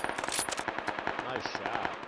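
Rapid automatic gunfire in the PUBG video game on the Miramar desert map, a dense run of sharp shots in quick succession at steady rhythm, close and loud, continuing through the whole stretch.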